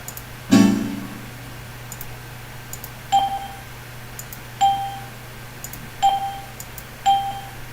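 Windows for Workgroups 3.11 system sounds play on an old computer: one fuller chime first, then four short bright dings spaced about a second apart, each clean and isolated over a faint steady hum.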